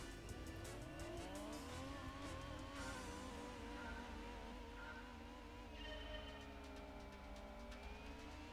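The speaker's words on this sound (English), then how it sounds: "Gotta love the whiny turbo in this car" Engine roar of a Nissan Micra in the video game Gran Turismo 2, with a high, rising and falling turbo whine sweeping over it, steady and loud throughout, with occasional tire squeals.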